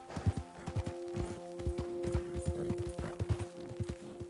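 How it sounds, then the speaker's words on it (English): Horses clip-clop in Red Dead Redemption 2, hooves striking in a steady irregular patter close by, with a low steady tone and ambient game sounds beneath. "Whoa, look at these horses."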